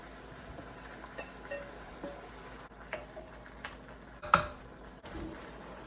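Thawed frozen mixed vegetables heating in a pan and being stirred: quiet bubbling sizzle with several soft scrapes and clinks of a utensil, one louder knock, at close range.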